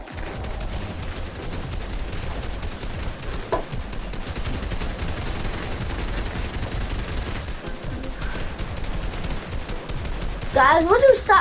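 Continuous gunfire in Fortnite, a dense sustained rattle of rapid shots like a minigun, with a sharper close burst near the end.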